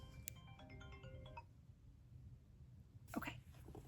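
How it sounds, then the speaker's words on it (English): A phone ringtone from an incoming call plays a short, faint melodic tone sequence for about a second and a half, followed by quiet room noise and a brief rustle. "Oh my goodness, why is someone calling me?"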